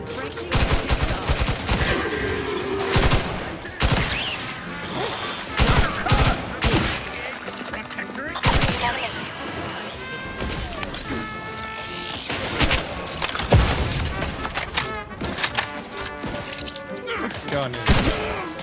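Rapid bursts of gunfire from a weapon in The Outer Worlds 2 crack repeatedly and loud and close across the clip, with short pauses between volleys and some background game noise.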